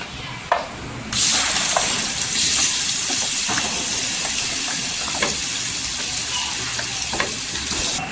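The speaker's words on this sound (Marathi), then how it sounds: "इथे मसाला तेलावर परतून घ्यायचा" Dry garam masala fries in hot oil in a pan, a loud close broadband sizzle that swells after the first second and then holds steady, with faint stirring taps underneath.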